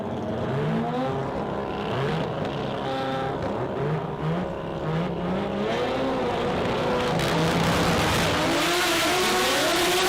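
Sport compact drag cars launching down the strip at an Australian drag racing event, engines revving hard and climbing through rapid gear changes, loud and sustained, with a second car joining toward the end.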